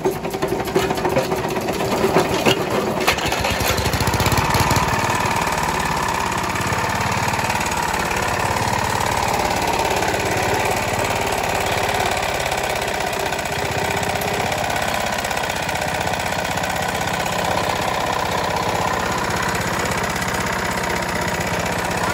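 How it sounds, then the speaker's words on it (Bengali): An old 4 HP air-cooled China diesel engine runs loud and close, with uneven bursts at the start settling into a fast, steady chugging drone that holds without a break. "আপনাদেরকে ইঞ্জিনটা স্টার্ট করে ইঞ্জিনের সাউন্ড কোয়ালিটি এবং কি অবস্থায় আছে ওইটা আপনাদেরকে দেখাই।"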